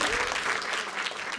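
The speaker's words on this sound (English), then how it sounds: "Please give them a nice round of applause." Brief, full applause from an audience for panel guests at a climate change discussion, dense clapping at a steady level from start to finish.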